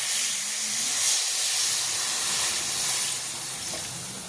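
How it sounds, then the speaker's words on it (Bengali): Water poured into a pan of hot fried spices for a rohu fish curry, a steady loud sizzling hiss throughout, close up with no talking. "এবার দিয়ে দিচ্ছি এর মধ্যে পরিমাণ মতো জল দিয়ে দিচ্ছি।"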